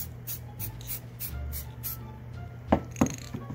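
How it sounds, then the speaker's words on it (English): Spray paint lightly mists a store-bought Halloween tombstone to add moss detail, a series of soft, short hissing bursts in a quiet room, followed by a couple of sharper taps near the end. "I'm going to hit it a little bit with both to add some more detail. And it's just a misting"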